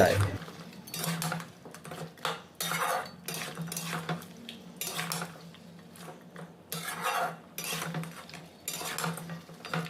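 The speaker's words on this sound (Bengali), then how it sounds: "জল দিয়ে এইভাবে নাড়াচাড়া করে নিলাম" Chicken feet curry stirred in a pan after a little water is added, with repeated scraping and clinking of a spatula against the metal, steady and close with a faint simmer underneath.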